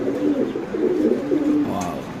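A pair of pigeons, a black lace hen and a shirting cock, coo in low, rolling, throaty bursts close by, running almost continuously through the short stretch.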